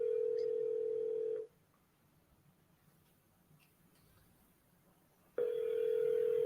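An outgoing telephone call rings back through the handset, a steady tone for more than a second, a pause of about four seconds, then the tone again, clear and without talking.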